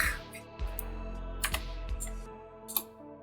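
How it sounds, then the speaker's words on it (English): Keys tapping on a computer keyboard, a handful of separate clicks at uneven intervals with short pauses between them, heard close and fairly clear over a quiet low hum, no talking. "You're typing on the keyboard. I can hear it. It's really loud."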